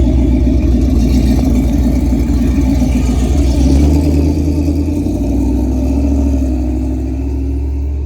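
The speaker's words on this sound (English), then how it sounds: "we're just gonna see if we can do a little bit of rock crawl and get up on the trailer so we can test these things out" A truck engine revs and labors as it rock crawls up onto a Diamond C gooseneck trailer, a loud, steady low rumble with rising and falling throttle and no talk.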